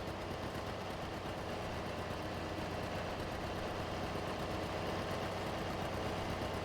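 A tractor engine from Farming Simulator 22 drones steadily at idle-to-working revs, a continuous low rumble with no speech over it.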